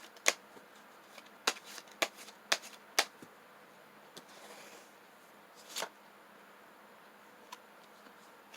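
Tarot cards shuffled in a quiet room, a series of crisp riffling snaps and flicks in irregular bursts, close and alone with no talking.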